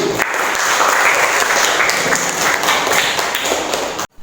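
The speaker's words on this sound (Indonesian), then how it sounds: "Tepuk tangan" A classroom full of people clapping together in a dense, steady round of applause that stops abruptly at the end.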